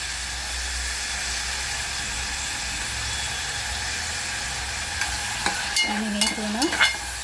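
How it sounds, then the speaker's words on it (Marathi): Onion with curry leaves frying in a pot, a steady broad hiss of sizzling oil throughout, joined near the end by scraping stir strokes and a brief tonal whine close by. "आपला कांदा भाजून होत आहे"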